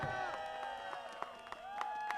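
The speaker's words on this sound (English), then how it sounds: "Give her a hand clap." A crowd at an outdoor social housing rally cheering for a council member, with scattered sharp claps, whoops and raised voices mixing over a ringing, tonal background.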